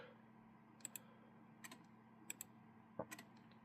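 Computer mouse or keyboard clicks during a turn-based strategy video game come as scattered, sharp, faint clicks in small pairs and singles over a quiet, humming background.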